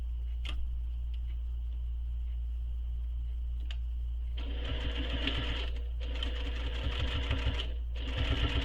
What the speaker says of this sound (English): We're going to sew down the strap across and then back up.